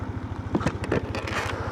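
A steady low engine rumble with a rhythmic putter, like an idling motorcycle nearby, with some scraping and crackling noises over it.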